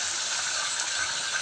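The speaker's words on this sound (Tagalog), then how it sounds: "Lagyan natin ng tubig." Water gushes steadily into a cooking pot of nilaga broth, a close, continuous pour with no talking over it.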